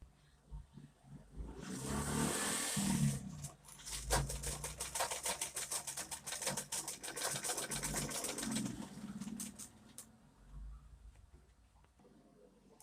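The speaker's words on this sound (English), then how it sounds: "So just go ahead and sew this all the way round." A sewing machine stitches a fabric hat all the way around, running in two long, steady, rapid-clattering stretches of several seconds each with a brief stop between them, close and fairly loud.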